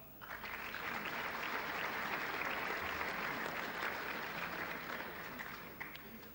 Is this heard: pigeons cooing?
no